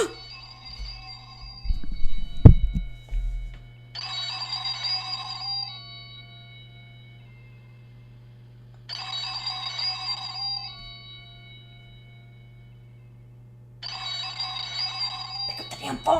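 Telephone ringing on a website game page, three separate bursts of electronic bell-like ringing spaced about five seconds apart, fairly clear over a steady low hum, with a brief thump early on.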